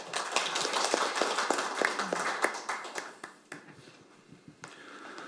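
Sparse, moderate applause from a seminar audience welcoming a naval battle veteran presenter, with distinct individual claps that thin out and taper to a few scattered hand claps.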